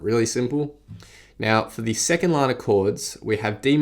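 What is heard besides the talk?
No everyday noise stands out behind the speech.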